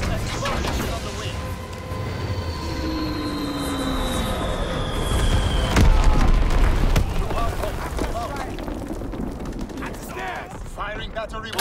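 Bombing run explosions in Call of Duty: WWII multiplayer: a continuous roar of rumbling blasts and booms with descending whistles, loud and dense, overlaid by radio-style game voice lines and battle noise.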